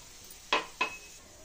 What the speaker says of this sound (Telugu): చూడండి, పిండిని అయితే ఇలా కలుపుకోవాలండి